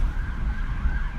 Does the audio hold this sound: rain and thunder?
no